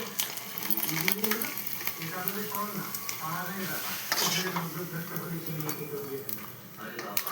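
Sago papad crackles and sizzles as it fries in hot oil in a home kitchen, a steady hissing bubble under someone talking throughout.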